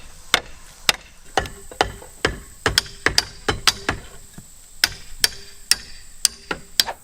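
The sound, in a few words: hammer striking rusted brake drum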